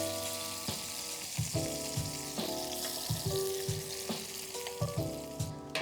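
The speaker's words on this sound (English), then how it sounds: "we want to blister the tomatoes and release all that liquid because that will be the base to our sauce" Cherry tomatoes blistering in chili oil in a pan, a steady close sizzle with small pops and occasional stirring scrapes, no voices.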